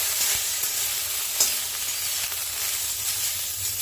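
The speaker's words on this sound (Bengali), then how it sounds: "দিয়ে ধনেপাতাগুলো সব দিয়ে দিলাম, দিয়ে একটুখানি নাড়াচাড়া করে" Coriander leaves, kalonji and green chillies are stirred in a hot pan for chutney, with a loud, steady sizzle and occasional scraping strokes, close up and without talk.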